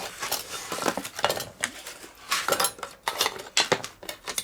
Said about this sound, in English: just peel that bit of foam off so you can see the depth